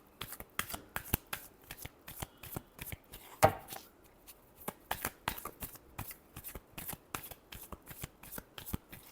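A deck of tarot cards is shuffled in quick, crisp riffles and taps, a steady run of sharp close-up slaps with one louder snap partway through, quiet overall and with no talking.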